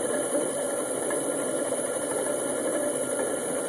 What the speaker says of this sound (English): the generator is now spinning